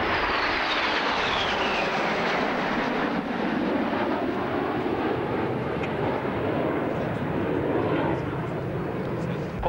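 RAF jets of 151 Squadron roar past at a 1989 airshow at RAF Chivenor, a loud sustained broadband rush with a slowly shifting pitch, steady for the whole stretch.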